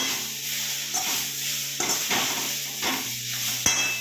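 Spices and ground dried red chillies fry in hot oil with a continuous loud sizzle, broken by several scraping stirs of a spoon against the pan.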